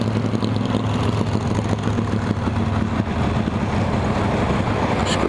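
A motorcycle engine rumbles steadily at close range, a continuous low idle drone with no clear revs, heard alone without talk.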